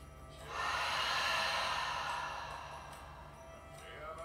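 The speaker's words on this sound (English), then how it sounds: "last, biggest inhale and exhale" A slow, deep breath in and out during a yoga session, a soft airy rush that swells and then fades gently, close and alone.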